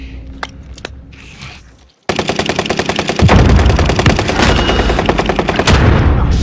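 Sustained automatic gunfire in Call of Duty Warzone on Rebirth Island, a quieter stretch of scattered shots giving way after a brief gap to loud, rapid, continuous bursts with heavy low booms mixed in.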